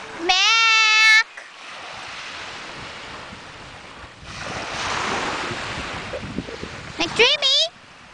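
Wind buffets the microphone on a windy beach while surf rumbles steadily. Brief high whining cries come near the start and again near the end.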